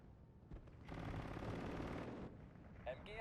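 Infantry guns firing in the video game Steel Division 2 as a sustained, rumbling burst of booming fire and crackle lasting about a second, fading into softer battle noise with a short sharp sound near the end.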